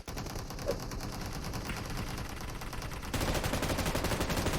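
Kar98 rifle fire in the mobile game PUBG Mobile: a stretch of rapid, repeated gunfire, moderately distant at first and then growing louder and denser partway through, with no talk.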